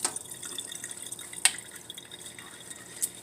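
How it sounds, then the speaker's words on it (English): Water runs from a kitchen sink faucet while hands are washed, a faint steady trickle broken by a few sharp clinks and splashes. "wash my hands"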